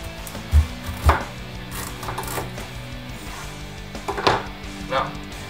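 A knife chops the ends off a butternut squash on a cutting board, giving a few sharp, separate thuds spaced irregularly over quiet kitchen background.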